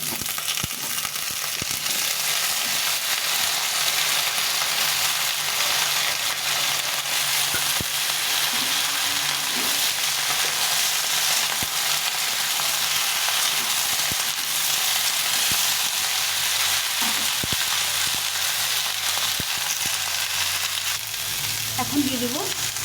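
Brinjal, beans, radish and potatoes fry in a hot pan, giving a dense, continuous sizzle that stays loud and even from start to finish, with occasional stirring scrapes and no one talking.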